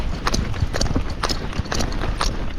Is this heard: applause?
no